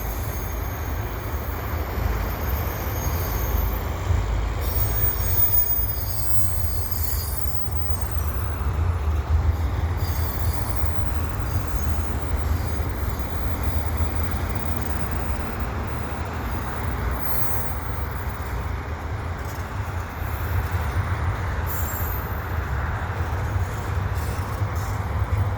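A westbound freight train of double-stack container cars rolls steadily past Lachine station in winter, a continuous rumble and clatter of wheels on rails with faint squeals, close and loud, with no voices.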